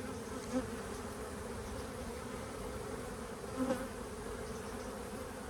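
Honey bees hum in an open hive during a late-May inspection, a dense, steady buzz close by and fairly quiet, with a few faint knocks and no talking.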